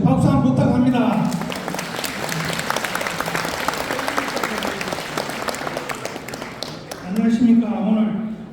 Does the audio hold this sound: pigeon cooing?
no